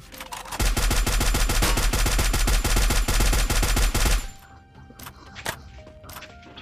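Rapid automatic gunfire in Free Fire Max rattles in a steady fast burst of evenly spaced loud shots for about four seconds, then gives way to scattered game clicks and a few single sharp hits.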